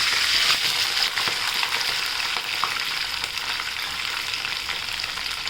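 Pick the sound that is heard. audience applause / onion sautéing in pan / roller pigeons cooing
onion sautéing in pan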